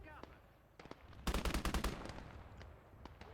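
A machine gun in the Gates of Hell war game rips off a rapid burst of about ten sharp, loud shots in quick rhythm, with scattered distant gunfire around it.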